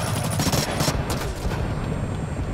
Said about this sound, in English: Okay, this is burst fire.